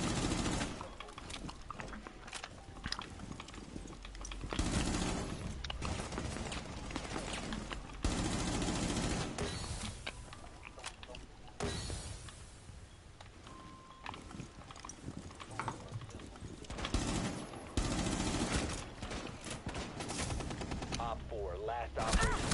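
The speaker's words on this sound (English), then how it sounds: "Why is he shooting?" Gunfire in the Rainbow Six video game comes in scattered bursts and rapid volleys, mixed with other game noise, while voices talk over it.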